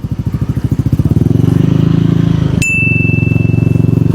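A motorcycle fitted with an aftermarket exhaust pipe revs hard close by, its engine throbbing in a fast, steady pulse. Partway through, a sharp high whistle-like tone cuts in and holds.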